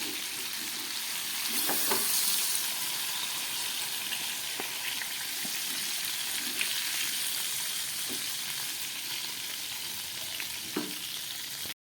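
Pomfret fish fry in hot oil with a steady, close sizzle and crackle that runs throughout, broken by a few soft clicks and scrapes as pieces are handled; no one speaks.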